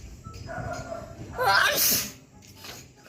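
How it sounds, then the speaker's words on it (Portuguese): A person with rhinitis sneezes late at night outdoors on a deserted street, one sharp, close, loud sneeze rising out of quiet background noise. "sem parar de espirrar"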